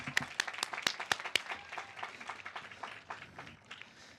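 A graduation ceremony crowd claps: several sharp, close hand claps stand out at first, then the applause thins into a scattered, softer patter of clapping from the audience.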